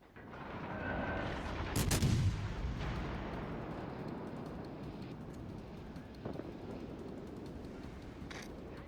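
Naval artillery from cruisers in World of Warships: Legends, a deep booming volley early on that rolls into a long fading rumble, with a fainter distant shot later over steady background noise.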